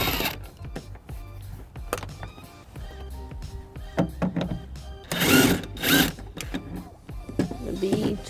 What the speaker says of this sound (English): First, I'll be removing the side panels, taking off the bolt.